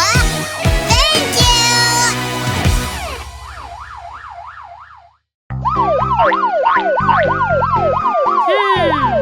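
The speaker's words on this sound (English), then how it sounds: "E-O-E-O, I'm a police car." A police car siren in an animated children's song, loud and close: rapid warbling wails and sweeping tones, a short drop to near silence, then the siren returns at full strength.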